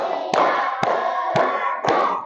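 Four loud, evenly spaced hand claps keep time to a spoken count, with a classroom or group leader talking continuously over and between them.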